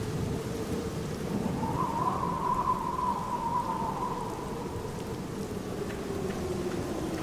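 Steady rain pours in the Black Mirror video game, a dense continuous hiss with a low rumble of thunder underneath, holding at an even, fairly loud level throughout.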